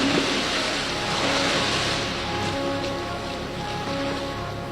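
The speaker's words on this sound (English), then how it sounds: "This is the wave tank at the RNLI's headquarters in Dorset." Water churns and sloshes steadily in the wave tank at the RNLI headquarters in Dorset, a continuous broadband wash of waves with a low mechanical hum underneath and no voices.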